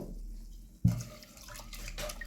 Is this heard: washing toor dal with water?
yes